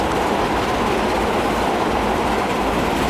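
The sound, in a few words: train at 89 mph in video game Transport Fever 2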